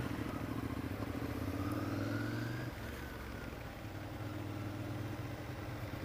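A Ducati Monster 659 motorcycle engine chugs at low RPM with a steady, close, throbbing drone; its pitch and level dip slightly partway through, then it carries on evenly.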